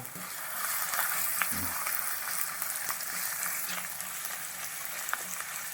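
Finely chopped ginger frying in a pan for a Kerala sardine dish, a steady close sizzle broken by intermittent stirring scrapes and light spatula taps, moderately loud with no talking.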